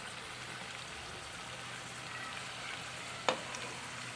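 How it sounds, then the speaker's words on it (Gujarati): Ratalu (purple yam) puris deep-frying in hot oil, a dense continuous sizzle and bubble close by, with one sharp clink of a utensil near the end. "તો આપણે આટલી રતાળુ પૂરી તળાઈ ગઈ છે"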